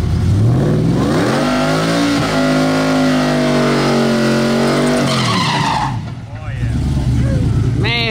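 GMC truck accelerating hard on a drag strip run, a loud close engine roar climbing in pitch with tire squeal, then fading as it pulls away while people talk over it.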